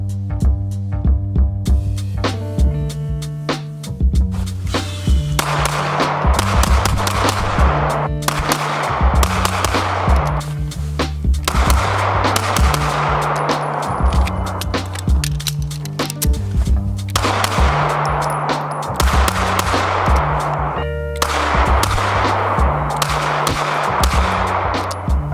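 Rapid shots from a Smith & Wesson Shield Plus pistol and other guns at a range, sharp cracks in irregular bursts over a steady low background hum, loud and close.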